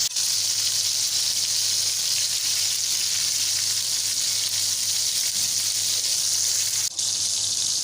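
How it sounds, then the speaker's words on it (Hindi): Chapli kebabs frying in a frying pan give a loud, steady sizzle that continues evenly throughout, close up, with no speech. "और इसी तरह बाकी भी कबाब भी हमने फ्राई पैन में डाल दिए हैं, इनको भी अब हम कर लेंगे फ्राई।"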